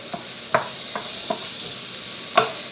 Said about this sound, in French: On ajoute nos champignons. Sans oublier de remuer.